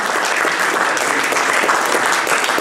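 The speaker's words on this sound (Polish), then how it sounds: "Brawa jeszcze! Brawa!" A crowd claps steadily and loudly throughout, a dense wash of applause with no voices standing out.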